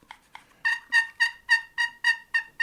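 A wooden turkey box call imitating turkey clucking: two quiet scrapes, then a steady run of about eight sharp, raspy yelps in even rhythm, loud and close with no talking.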